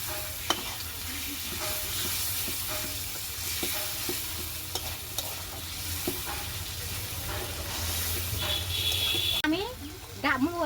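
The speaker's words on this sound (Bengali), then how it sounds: "এখন আমি শাকগুলা দিয়ে দিচ্ছি। এখন আমি নেড়ে চেড়ে দিচ্ছি।" Leafy greens fry in a pan for muri ghonto, a loud steady sizzle with a spoon scraping and stirring through them. A voice talks over the cooking.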